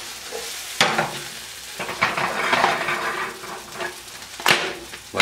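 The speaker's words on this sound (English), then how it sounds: "flip this egg over" A vegetable cheese omelet sizzles in a frying pan while a spatula scrapes underneath, then a thump and clatter as it is flipped, followed by continued frying and another sharp metal knock near the end, close and clear without speech.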